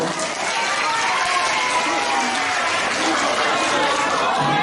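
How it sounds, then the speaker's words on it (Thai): Steady clapping from guests at a birthday party in a garden restaurant, a dense continuous patter with background chatter mixed in. "ปรบมือครับ"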